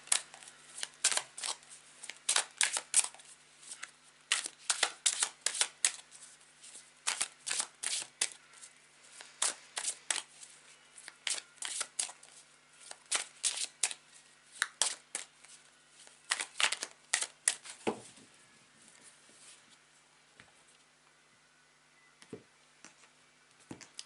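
Tarot cards are shuffled by hand in a quiet room: repeated crisp riffling bursts and soft slaps in uneven clusters, close and clear, with brief pauses between shuffles.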